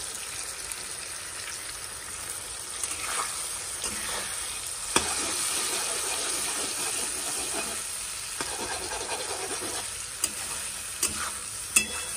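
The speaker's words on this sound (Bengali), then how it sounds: "এই যে চাউমিন হয়ে গেছে ভাজা, নামিয়ে নিলাম।" Chow mein with tomato and egg stir-fries in a pan with a dense, continuous hiss and sizzle. Occasional sharp clicks of a spatula against the pan stand out, with no talking.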